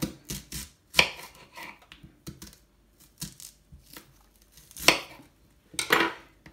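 A knife slices an onion into rings on a cutting board in a home kitchen where a whole fish is being prepared, giving sharp, separate chops at an irregular pace with quiet pauses between them.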